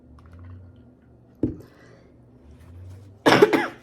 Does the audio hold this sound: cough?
yes